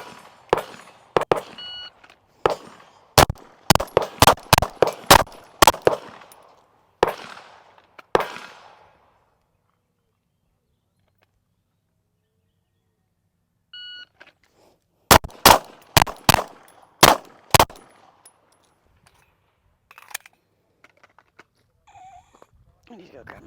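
Pistol shots ringing off steel targets during a USPSA transitions drill on a range, loud sharp reports fired in rapid strings of several shots with pauses between groups.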